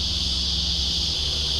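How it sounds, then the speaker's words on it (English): Cicadas buzz loudly by a lake in a continuous, high, steady drone with no pauses, alongside a low background hum. "But certainly I can hear the cicadas calling pretty loud on this side too."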